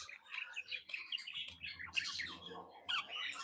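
Lovebirds in a colony aviary chirp and squawk continuously, many shrill overlapping calls close by with no human voices.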